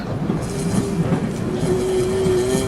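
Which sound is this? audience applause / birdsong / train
train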